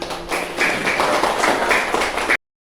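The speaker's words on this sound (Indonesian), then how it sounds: "Beri tepuk tangan." A classroom of students claps together in a dense, steady patter of many hands for about two seconds, fairly close and loud, then stops abruptly.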